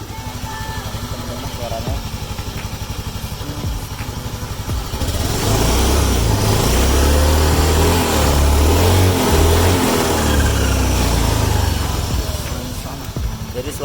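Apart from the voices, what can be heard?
automatic scooter engine with noisy whining CVT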